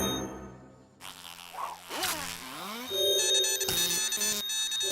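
Cartoon bee buzzing in an animated Sonic Boom episode, a whiny insect drone that swoops up and down in pitch, then settles into a steady buzz with electronic beeps and clatter, fairly loud and close.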